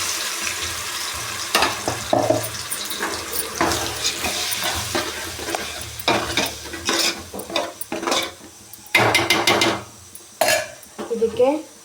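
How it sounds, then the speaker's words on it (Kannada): Onions fry in a pan as ground masala is added, with a sizzling hiss under repeated scraping and stirring clatters of a utensil against the pan, close and irregular, along with a few knocks and faint water sounds. "ಫ್ರೈ ಆಗ್ತಿದ್ದಂಗೆ ನಾವು ಮಸಾಲೆ ರುಬ್ಕೊಂಡಿರೋದನ್ನ ಹಾಕೋತಾ ಇದ್ದೀನಿ"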